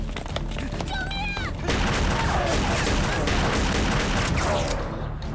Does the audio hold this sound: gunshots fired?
yes